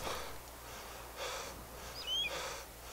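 A hunched lurker zombie in the video game DayZ gives off gorilla-like huffing snorts and rough breaths, several short bursts at a moderate distance over a quiet background hum, with no voices.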